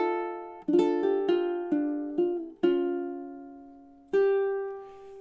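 Ukulele playing measures 13 and 14 of a song, a slow phrase of single plucked notes and a few strums, each ringing and decaying, with a final held note, soft and close.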